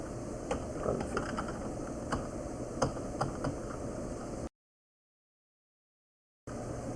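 Keys clatter on a computer keyboard in a run of quick, uneven taps as a command is typed, fairly close and alone before a stretch of silence and a brief return of faint background hiss.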